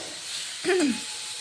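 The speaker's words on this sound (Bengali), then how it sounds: "বেগুন আর শিমটা যাতে লাল লাল হয়ে খুব সুন্দরভাবে ভাজাও হয়ে যায়" Eggplant and beans fry in a pan with a steady, soft sizzling hiss. A brief whining tone rises and falls partway through. No one speaks.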